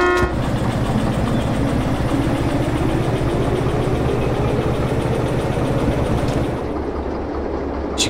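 A locomotive in the Derail Valley train simulator game sounds its horn, then its engine drones steadily as it pulls away, with a brief metallic clank near the end.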